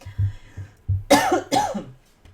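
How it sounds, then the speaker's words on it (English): A woman has a short coughing fit: a few soft throat clears, then two loud, harsh coughs close to the microphone, trailing off into quiet. "Got a little coughing fit there."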